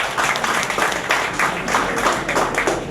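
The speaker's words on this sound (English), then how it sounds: "So a round of applause for that as well." An audience at a medical centre presentation claps together in a steady, moderately loud round of applause that lasts the whole moment, with a faint trace of voice.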